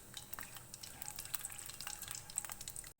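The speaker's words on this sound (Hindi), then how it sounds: "इन सारी चीज़ों को ऑयल में ऐड कर देंगे। हल्का सा इनको ऑयल में फ्राई करेंगे।" Whole spices, including bay leaves and cumin seeds, fry in hot oil for chicken white biryani, giving a close, faint crackling sizzle with scattered pops that continues evenly before cutting off abruptly.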